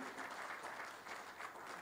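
Applause from an audience at a Congolese ceremony celebrating a victory for the Republic of Congo and its president, a steady, fairly faint patter of many hands clapping without a break, heard from a little distance.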